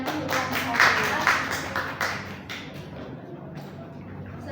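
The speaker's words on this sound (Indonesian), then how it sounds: "Beri tepuk tangan sekali lagi untuk kelompok 1" Classroom applause for a student group after their microteaching presentation: a short burst of clapping from a small group that fades out after about two seconds, leaving quiet room noise.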